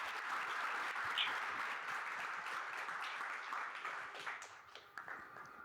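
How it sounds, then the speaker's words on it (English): A lecture audience gives Dr. Benjamin Golden one more round of applause after a talk on Black ecologies of the Great Dismal Swamp. The steady, fairly distant clapping thins into scattered claps toward the end. "One more round of applause."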